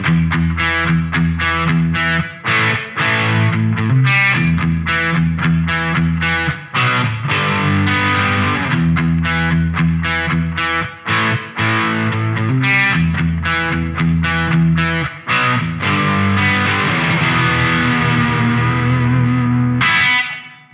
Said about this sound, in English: So this is the Gibson SG 1961 reissue.